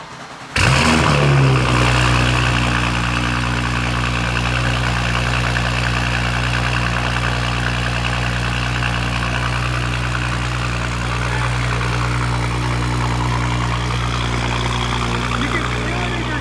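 An Audi S5 with a decat downpipe fires up and settles into a loud, rumbling idle that holds steady and close for the rest of the stretch.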